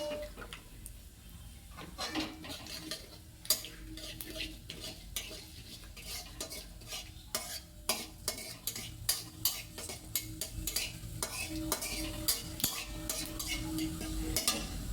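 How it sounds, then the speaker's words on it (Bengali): Panch phoron spices and hing frying in oil in a kadai while green chilli pickle is made, with a soft continuous sizzle under repeated sharp clinks and scrapes of a spoon stirring against the metal pan, close and fairly quiet. "তো ফোড়নটা তেলে ভাজা হলে একটু টেস্ট লাগবে"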